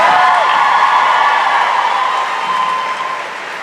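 A convention crowd at a Supernatural fan panel in New Jersey breaks into loud, dense applause that fills the hall, then gradually fades over a few seconds.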